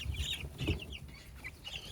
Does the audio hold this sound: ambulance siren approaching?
no